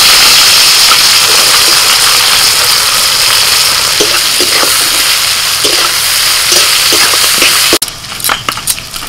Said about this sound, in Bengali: ফোড়নটা হয়ে গেছে, দিয়ে দিচ্ছি পেঁয়াজ কুচি।